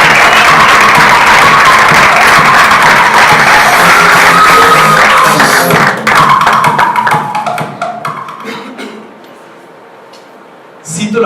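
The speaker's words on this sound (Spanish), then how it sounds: "me gustaría mucho que me ayudaran a darle un aplauso," Audience applause at a live talk, a dense continuous clatter of clapping that holds steady for several seconds, then thins out and fades toward near silence before a brief rise at the very end.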